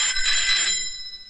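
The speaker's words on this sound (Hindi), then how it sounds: "फोन बज रहा है तेरी।" A telephone rings with a bright, shrill electronic trill, one short burst that fades quickly, heard alone in a comedy scene.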